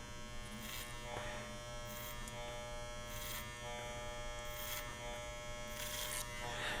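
A barber's electric hair clipper buzzes steadily while cutting over a comb, a faint constant motor hum with repeated brief bursts of snipping as the blades pass through hair.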